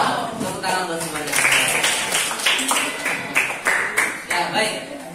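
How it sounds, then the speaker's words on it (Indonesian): Classroom students clapping together, a dense burst of hand claps that settles into rhythmic rounds of claps, with a voice talking partly over it. "Tepuk tangan buat semuanya."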